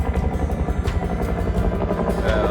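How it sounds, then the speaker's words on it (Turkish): A helicopter flying overhead in Siena, Italy, its rotor thumping loudly and steadily, with a deep engine drone throughout and no talking. "Helikopter tam zamanla geliyor."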